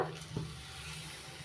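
White cooking oil spread around a frying pan on a gas stove gives a soft, brief sizzle with a small stirring scrape, faint and close by, with no talking.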